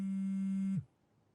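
A phone rings with one steady electronic tone lasting under a second, then cuts off abruptly into near silence.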